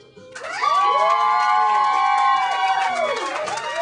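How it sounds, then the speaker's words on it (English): Poetry slam audience cheering and whooping to vote for a contestant, loud sustained crowd yells and shouts swelling in after a quiet start, with some clapping beneath. "Let's do this by round of applause."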